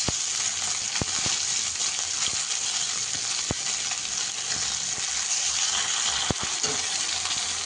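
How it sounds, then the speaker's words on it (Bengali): Soft pieces of parshe fish fry slowly in oil with a steady, even sizzle throughout, broken by a few sharp metallic clicks from a utensil against the pan. "তো আস্তে আস্তে ভেজে নিচ্ছি"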